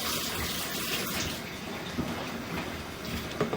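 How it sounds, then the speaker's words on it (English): Water runs steadily, as from an open tap during a pipe video inspection, making a continuous loud broadband rush that eases slightly toward the end, with no voices. "Let me shut that water off."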